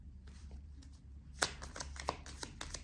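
Tarot cards shuffled by hand for a card draw, a soft quick riffling and flicking of cards close by, with a few sharper snaps among the steady shuffle.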